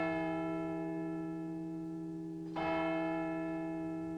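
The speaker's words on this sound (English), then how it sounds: "In the still of the night, the clock started to chime." A church clock chiming midnight, sounding as a sustained ringing bell tone with a second strike struck partway through, resonant and steady without voices.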